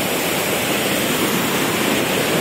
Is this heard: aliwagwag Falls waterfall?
yes